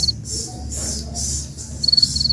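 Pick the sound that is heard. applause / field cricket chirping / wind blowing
field cricket chirping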